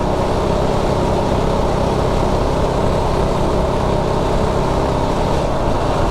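A Predator 212 Ghost engine runs flat out at top speed, a loud, steady, dense engine roar that holds unbroken from start to finish with no pauses, close to the listener.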